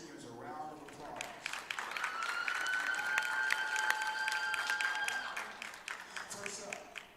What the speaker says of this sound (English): Can we give our seniors a round of applause?